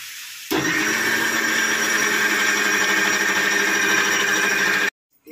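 An electric wet grinder runs steadily grinding white batter made with filtered water, a loud continuous motor whine with a churning texture that starts abruptly and cuts off near the end.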